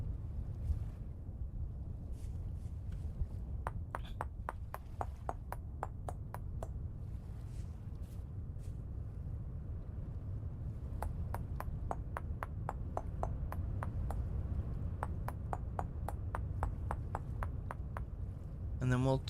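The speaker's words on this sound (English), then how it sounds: "Nothing but the dulcet sounds of chiseling this morning." Chiseling stone in Vintage Story: rapid runs of sharp metallic taps over a low steady rumble, coming in bursts of many quick evenly spaced strikes with pauses between them, close and clear.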